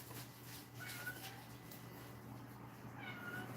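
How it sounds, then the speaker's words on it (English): A cat meows faintly indoors, a couple of thin plaintive cries standing out over a steady low hum, with no talking. "She's making the cats cry."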